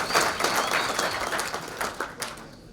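A conference audience at a panel discussion gives sustained, dense applause, many hands clapping together before the sound thins out at the end.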